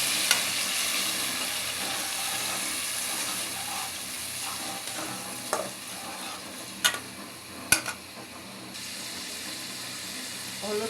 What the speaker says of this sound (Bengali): এই যে পেঁয়াজ দিছি আর তেল, যে পেঁয়াজটা বাজতে নিছি।